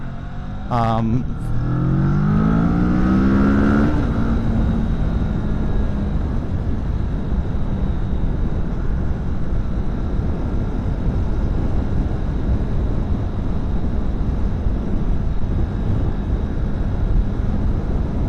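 Kawasaki Vulcan 650S motorcycle engine droning steadily while riding, loud and continuous with heavy low rumble and wind noise, a brief rising rev near the start.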